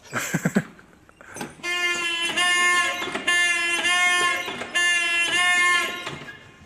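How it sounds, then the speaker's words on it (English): The Fastnet Rock lighthouse fog signal horn sounds three long, loud, harmonically rich blasts separated by short gaps, following a few brief lower tones at the start. "Something like this is part of that great big family of fog signals that have hopefully been keeping mariners safe for centuries."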